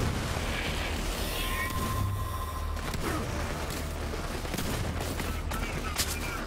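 Shotgun fire in the Borderlands 3 video game, a dense volley of sharp blasts and booms over ongoing battle noise, loud and close, with a few isolated shots near the end.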